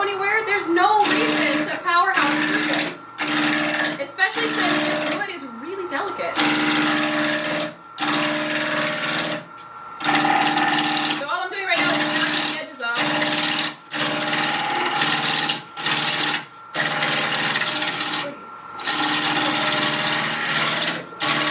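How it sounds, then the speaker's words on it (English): A wood carving tool chipping out wood with quick, repeated scraping cuts, close and steady, heard under someone talking continuously throughout. "So I've got the tool slightly angled, talking while chipping out."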